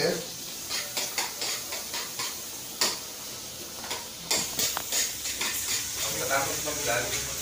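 Garlic added to onions sautéing in a pan, with soft sizzling under repeated sharp clacks and scrapes of a utensil stirring against the pan, close and uneven.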